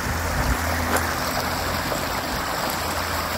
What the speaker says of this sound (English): there's that beautiful sound of the water again.